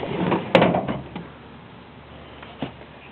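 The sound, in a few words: toolbox drawer with cardboard liner opening or closing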